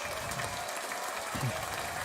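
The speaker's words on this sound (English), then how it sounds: "round of applause for you one more time" An audience claps in applause at the close of a Titans versus Colts recap show, a steady wash of clapping heard at a moderate distance and sustained throughout, with a brief murmur of voices.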